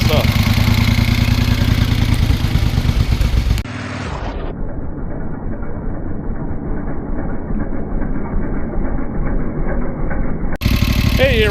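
A 1973 Moto Guzzi motorcycle engine runs steadily at idle, a loud, close, even throbbing pulse that continues throughout while the recording briefly dulls in the middle.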